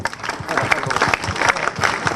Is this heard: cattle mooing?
no